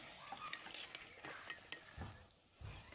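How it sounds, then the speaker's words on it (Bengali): Samosas frying in hot oil, a faint steady sizzle with light clinks and stirring taps, heard quietly and without voices. "এবার আমি ভাজব।"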